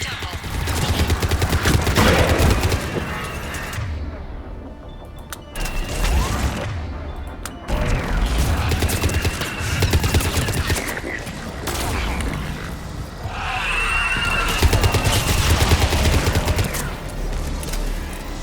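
A gunship in the Mass Effect video game lays down bursts of gunfire, with dense rattling volleys, booms and mechanical clatter that repeat for the whole stretch. A short gap breaks the firing partway through, and the shooting is loud and close.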